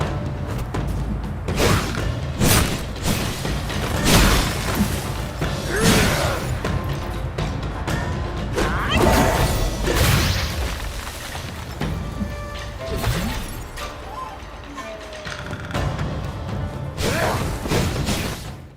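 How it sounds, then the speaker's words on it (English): A fiery spell effect from the action video game Black Myth: Wukong, with repeated heavy whooshes, crashes and booming impacts over a dense, loud game soundscape, with no talking. "Fire Ring spell."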